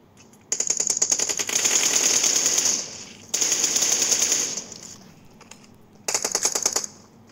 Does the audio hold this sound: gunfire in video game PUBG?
yes